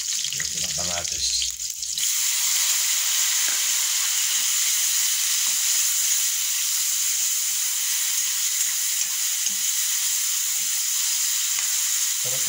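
Canned corned beef with tomatoes frying in a pan, a loud, steady sizzle and crackle after a short clatter at the start, continuing evenly and up close with no voices.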